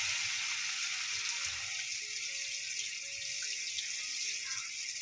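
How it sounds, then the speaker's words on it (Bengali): Koi fish added to hot frying oil gives a continuous bright sizzle, steady and moderately loud throughout, with faint background tones beneath. "মাছটা দিয়ে দিলাম, কই মাছটা"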